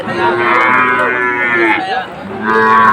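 Sahiwal bull calves moo at a cattle market: a long, loud, close bellow, a short break, then another moo starting.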